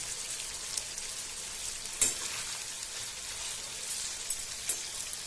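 Ridge gourd pieces sizzling in hot oil in a pan, a steady soft crackling hiss with a few sharper pops and a utensil tap, close and continuous without voices.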